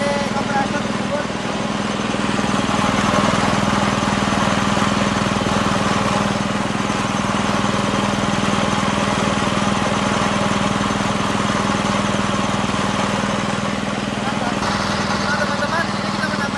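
An air compressor engine runs at a steady idle during an RPM check, a constant loud mechanical hum and rattle that never changes pitch or level, with people talking faintly in the background.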